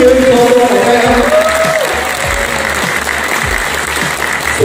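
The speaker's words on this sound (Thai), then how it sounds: "ปรบมือให้พี่น้องชาวไทยนะครับ" Loud applause from a large audience in a hall, honouring Thai members at a business event, a thick sustained roar of clapping with a brief vocal tone and some crowd noise over it at the start.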